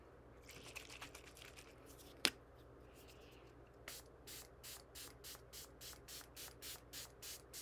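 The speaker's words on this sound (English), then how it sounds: "she put a setting spray on before mascara. So I'm going to use the Milani Make It Last" Milani Make It Last setting spray mists onto a face in a quick run of about a dozen faint, evenly spaced spritzes, after some soft handling rustles and a sharp click.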